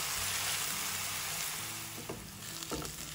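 Ivy gourd and onion frying together in a pan, a steady close sizzle with a few soft stirring scrapes, no talking.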